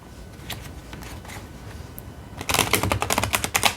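Tarot cards are shuffled in a quick burst of crisp riffling and flicking, faint at first and then louder and denser near the end, with no talking.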